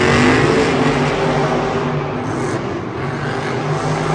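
Monster trucks Son of a Digger and Jurassic Attack rumble and rev at the start line of a Monster Jam stadium race in Miami, a loud, steady engine roar that eases slightly toward the end, with no voices.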